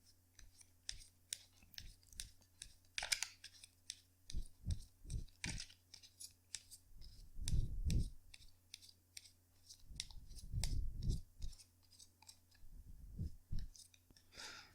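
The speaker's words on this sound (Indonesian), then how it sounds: "kartunya dikocok dulu sebelum kita mulai" Tarot cards being shuffled close up, with quick papery flicks and clicks and a few louder riffling bursts, faint against a quiet room.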